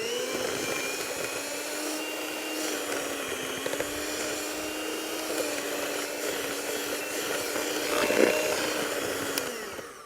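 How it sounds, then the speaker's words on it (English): A handheld electric mixer creams cake batter for a cherry and strawberry frangipane, a steady close whine with a constant pitch and faint scraping against the bowl, briefly louder near the end. "I'm going to use my handheld mixer"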